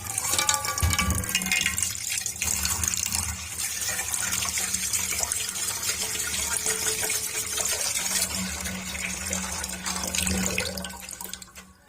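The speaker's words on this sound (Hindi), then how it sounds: "पानी ऐड करेंगे और चूल्हे के ऊपर रख देंगे उबलने के लिए" Water pours steadily from a tap into a cooking pot, a continuous rushing splash lasting throughout, fairly close with no talking.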